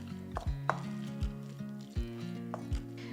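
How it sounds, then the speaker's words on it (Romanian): Knife chopping fresh dill and parsley on a cutting board, a handful of sharp separate thuds spaced unevenly, fairly quiet and close, with faint music in the background. "Între timp, tocăm și puțină verdeață."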